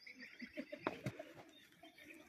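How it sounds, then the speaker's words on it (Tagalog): A pigeon coos softly in a few low, rolling notes, with a brief sharper sound in the middle and faint background noise. "Ito po ang ating kalapati."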